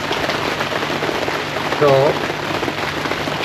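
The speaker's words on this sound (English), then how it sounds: "I'm sorry about the rain noise." Steady rain falling outside during welding work on a Ford Fiesta Mk2 sill rebuild, a dense continuous patter filling the scene, with a brief spoken word and a short tonal sound partway through.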